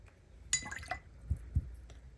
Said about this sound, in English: ooh, this is called sea glass.